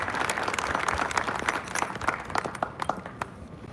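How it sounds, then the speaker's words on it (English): An audience applauds outstanding servant leader award recipients at a Georgia Military College academic honors parade, a sustained patter of many hands clapping that thins toward the end. "Please let's give a round of applause to these outstanding servant leaders."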